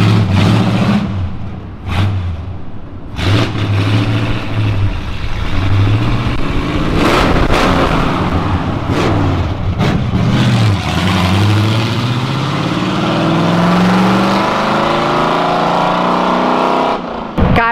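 Loud car engines roar and rev nearby, with several vehicles sweeping past in succession, their pitch rising and falling as they go by.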